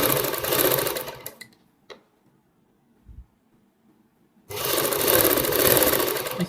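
Sewing machine stitching double piping along a kurti neckline, two bursts of fast running stitches at moderate loudness separated by a few seconds of near silence with faint small clicks.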